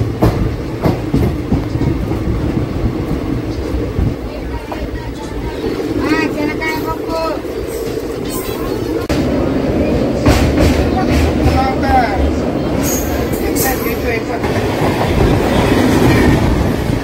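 The Tirupati–Puri Express, train 17480, rumbles steadily through the whole stretch near Ongole railway station, with clattering wheels and carriage noise underneath and a voice talking over the steady roar.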